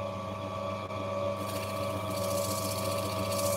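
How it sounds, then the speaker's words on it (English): A Dremel rotary tool cuts opal with a steady, high-pitched whine that continues throughout, moderately loud, its tone brightening partway as the cut bites. "when I'm on the Dremel, for sure"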